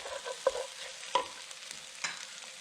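Onions caramelizing in a pan for German gulasch, a soft sizzle under three distinct scrapes of a utensil stirring them, close and moderately quiet.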